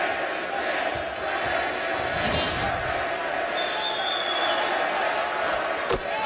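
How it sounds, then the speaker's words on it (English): A basketball arena crowd at a Duke vs Notre Dame game in 2017 keeps up a steady, dense roar of chanting and voices aimed at a player, with a sharp slam near the end. "There the crowd serenades Grayson Allen"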